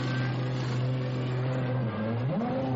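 A 1998 Ferrari Formula 1 car pulling out of the pits after refuelling, a sustained engine drone that holds steady then dips and climbs in pitch near the end, heard over broadcast-style background, no voices.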